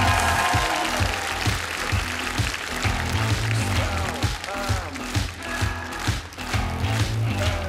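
Stormy audience applause at a comedy show on stage, loud and sustained clapping with a few cheers, going on throughout without pause.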